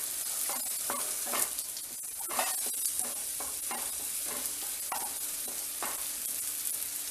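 Egg frying in a pan with cauliflower rice for a gobi egg rice dish, a continuous hiss of sizzling broken by repeated scraping strokes of a spatula stirring.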